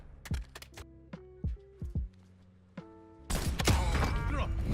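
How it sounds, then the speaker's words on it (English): Video game gun reload in Warzone: a series of sharp metallic clicks and clacks as the magazine is swapped, spaced over a few seconds, followed by a sudden burst of loud dense noise. "Reloading. Changing mag."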